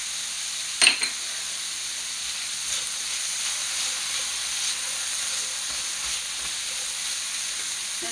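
Black beans with chili powder and cumin sizzle in a pan, a steady close hiss with a sharp clatter near the start and faint stirring scrapes, no voices.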